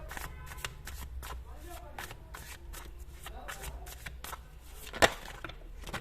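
Tarot cards being shuffled by hand during a reading, a steady run of soft riffling bursts with one sharper snap of cards near the end, while someone talks over it.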